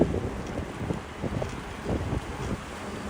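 Wind buffets the microphone on a bike ride through New York City near buildings, a loud, continuous rumbling gust with uneven surges and no speech.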